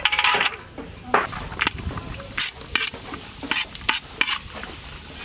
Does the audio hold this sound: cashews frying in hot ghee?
yes